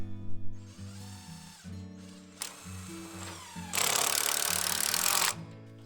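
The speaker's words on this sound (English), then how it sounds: "So I'm gonna screw this in right into here, right below the plywood." A power drill drives screws into a wooden chicken tractor frame below plywood, giving short whirring bursts with a long, loud final drive near the end, close to the microphone.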